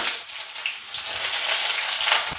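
Garlic and onion frying in hot oil give off a steady, close hiss and sizzle with faint crackles throughout, and no voices are heard.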